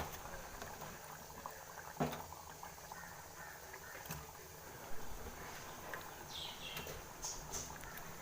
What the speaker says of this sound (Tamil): நல்லா கொதிச்சிருச்சு.